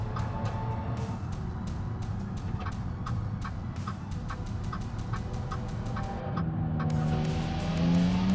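A hybrid car in the BeamNG driving game cruises with a soft, steady hum over rapid ticking, then its combustion engine starts near the end and climbs in pitch as it accelerates, loud and close.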